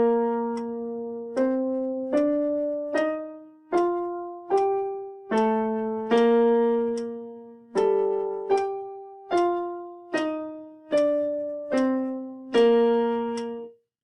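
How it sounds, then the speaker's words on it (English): A clarinet plays a warm-up scale alone, a run of about fifteen clear sustained notes stepping upward and then back down to the low register, each note tongued separately with a short break between. "So clarinets, it'll sound like this when you play it."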